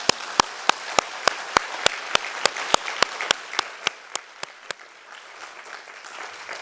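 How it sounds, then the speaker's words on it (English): Applause after the 2016 David Rockefeller Lecture. A few sharp, close claps keep a steady beat over a softer crowd clapping, then thin out and stop after about five seconds, leaving quiet room noise. "One more round of applause for him."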